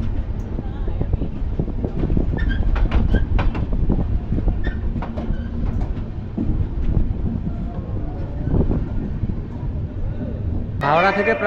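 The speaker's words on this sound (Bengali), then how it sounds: "প্রায় 50 মিনিট লেটে আমাদের ট্রেন ঢুকছে উত্তরপ্রদেশের রায়বারেলি জংশন স্টেশনে।" Amritsar Mail passenger train rolling into Raebareli Junction station in Uttar Pradesh, a steady low rumble of wheels and carriages throughout with scattered clicks and clatter, loud and close, with a brief higher screech near the end.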